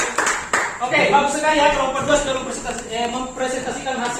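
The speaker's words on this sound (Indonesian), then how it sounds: "beri aplaus untuk kelompok 2" A classroom group of students applauds a presenting group, a burst of clapping that fades quickly into chatter and voices talking over it.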